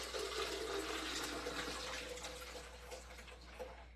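Carrot juice pours through a strainer in a steady, close liquid rush that tapers slightly toward the end, with no talking.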